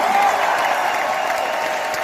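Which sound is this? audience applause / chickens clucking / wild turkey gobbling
audience applause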